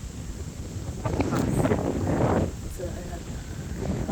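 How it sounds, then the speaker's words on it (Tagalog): Strong wind buffets the microphone outdoors on an autumn day in Sweden, a steady low roar that swells in gusts, with a person talking over it. "Grabe ang windy ngayon. Super windy."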